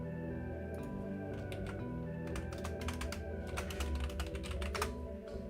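Rapid typing on a computer keyboard, a steady clatter of keystrokes that grows busier and louder toward the end, over a constant low hum of background game sound.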